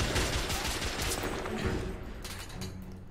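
Dense gunfire from The Order: 1886 video game, a rapid continuous volley of shots that is loud and close and runs through the whole moment.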